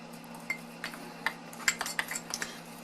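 Red and green food colouring being stirred into cake frosting in a bowl: scattered light scraping and clinking of a utensil against the bowl over a steady low hum, with no talking.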